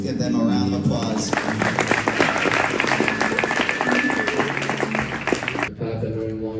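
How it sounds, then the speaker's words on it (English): Guests at a wedding reception applaud the couple with steady, dense clapping that builds and holds for several seconds, mixed with crowd noise, before it stops and a voice starts talking. "Let's give them a round of applause."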